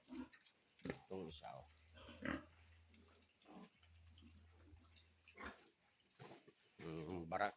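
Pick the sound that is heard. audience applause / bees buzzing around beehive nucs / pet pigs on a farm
pet pigs on a farm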